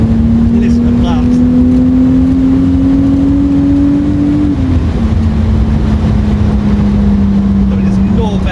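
A Mk2 with a supercharged VR6 revs with a loud, steady, rising drone that drops at a mid-run gear change before climbing again, heard close up with road and wind roar underneath.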